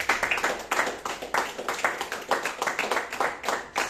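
A church congregation clapping together, a lively run of quick, fairly even claps filling the room at close range.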